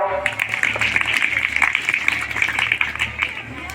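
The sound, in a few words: audience clapping loudly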